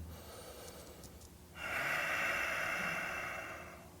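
Heavy breathing while holding a yoga crow pose (bakasana): a soft quiet stretch gives way to one long, strong, close exhalation-like rush of air that fades toward the end.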